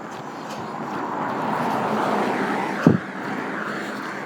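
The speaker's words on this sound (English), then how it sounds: "I can hear some more car sounds" Traffic rumbles from a busier street nearby, a broad steady wash of passing cars at moderate distance, with a brief knock partway through.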